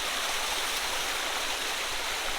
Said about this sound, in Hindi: यहाँ पे घराट के लिए पानी लगाया गया है